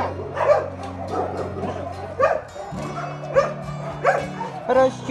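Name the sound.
dog barking and yipping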